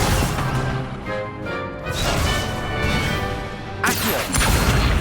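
The Incendio fire spell from Hogwarts Legacy erupting in dense, roaring bursts of magical flame amid a chaotic run of crashes and whooshes, loud and continuous with a sharp new burst near the end.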